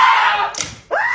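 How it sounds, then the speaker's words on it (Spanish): A loud, shrill scream sweeps downward, breaks off briefly, then rises again in a second high wail, close and intense with nobody talking over it. "¿Qué son esos gritos?"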